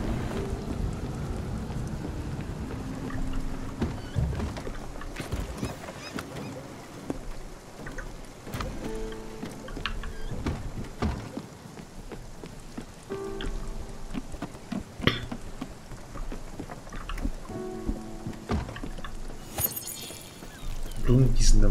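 Rain in the video game Spiritfarer hisses as a steady broadband wash, with scattered sharp splashy clicks, while someone talks over it.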